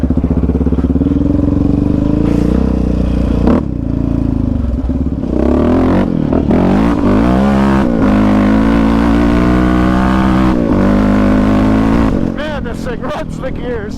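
A Raptor 700 ATV engine revs loud and close on a cold winter off-road ride, its pitch climbing and dropping repeatedly as it pulls through the gears, with wind rush and brief clatter toward the end.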